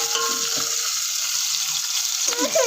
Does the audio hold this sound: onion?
yes